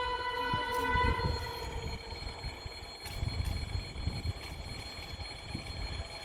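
A diesel locomotive pulling a wagon creeps slowly along the rails, a steady low rumble with a high drawn-out squeal or horn-like tone on top, heard from a distance outdoors with no speech.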